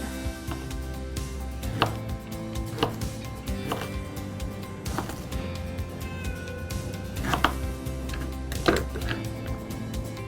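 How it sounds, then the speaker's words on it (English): A knife chops ginger on a board in irregular, crisp taps, some bursts of quick strokes, close and fairly loud with a low hum behind. "So I've peeled my ginger. Now I'm just going to chop it."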